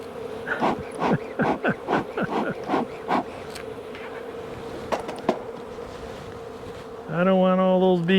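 Bees buzzing around hive boxes, a steady close drone with individual insects zipping past in repeated passes, joined near the end by a brief harmonic whine.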